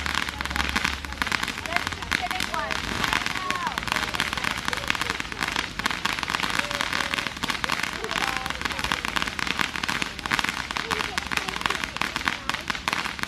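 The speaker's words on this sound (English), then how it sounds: "we are going to get ready for some fireworks that will be really cool." Birthday fireworks go off in a dense, continuous barrage of sharp crackles and pops, loud and close, with the bursts running together for the whole stretch.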